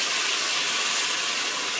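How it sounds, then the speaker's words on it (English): Tomato puree poured into a hot pan of meatballs, giving a steady, loud broadband sizzle and hiss that holds evenly throughout with no talk. "And you can see it's kind of sizzling."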